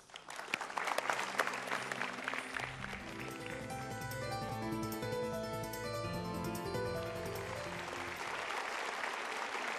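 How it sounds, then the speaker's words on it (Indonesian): A studio audience at an Indonesian motivational talk show claps in a loud, dense burst of applause that fades into sustained music with steady tonal notes. "kita berikan tepuk tangan untuk itu"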